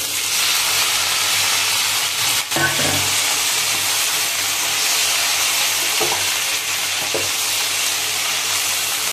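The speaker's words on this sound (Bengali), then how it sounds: "জলটা দিয়ে দিচ্ছি।" Water goes into a pan of frying vegetables for a Bengali sukto curry, raising a loud continuous hiss and sizzle with a sharp clatter near the start and a few faint knocks later. No one speaks.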